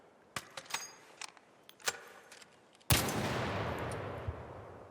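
Ferro rifle from ARC Raiders firing: several sharp, separate single shots ring out in the first few seconds, then one much louder blast fitted with a muzzle brake lands near the three-second mark and trails into a long, roaring decay.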